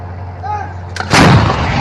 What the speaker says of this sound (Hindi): इजराइल की आर्टिलरी और तोपें सीधा लेबनान के अंदर तक घुस चुकी हैं